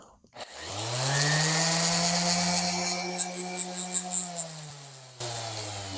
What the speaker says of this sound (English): So if you have a power tool like your sander, you click this in,